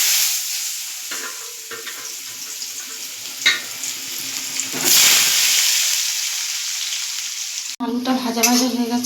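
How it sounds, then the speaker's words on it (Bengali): Potatoes fry in oil that was already used for frying fish, a loud, close sizzle with scraping stirs and a hissing surge midway, and a voice is briefly heard near the end. "তেলেই আলুগুলো ভেজে নেব।"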